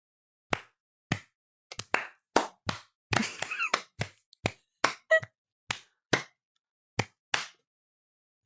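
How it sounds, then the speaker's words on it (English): Scattered, sparse hand claps from a small group, about fifteen sharp separate smacks at irregular intervals, with one brief flurry of several hands together near the middle. "Everyone give themselves a round of applause."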